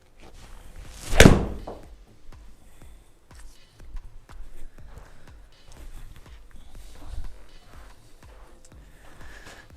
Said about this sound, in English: So 7-iron, we'll hit 3 shots and compare.